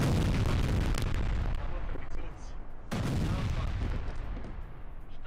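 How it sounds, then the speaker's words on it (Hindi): A huge blast from 100 tons of explosives set off in the Mahbeb area of southern Lebanon booms as heavy rumbling, with a second sharp detonation midway followed by a continuing roar. "100 टन विस्फोटक के साथ ये बड़ा धमाका किया गया है।"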